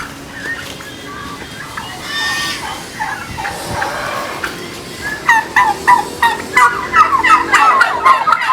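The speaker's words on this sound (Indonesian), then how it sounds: "ini adalah anak-anak kalkun yang sudah berusia 3 bulan" Three-month-old turkeys gobbling in quick bursts, faint at first, then a rapid run of loud, close calls toward the end.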